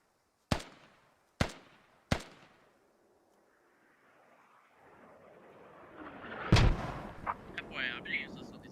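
Three sharp, booming mortar blasts ring out one after another in a military combat video game, then a fourth blast lands later under rising ambient noise and faint voices.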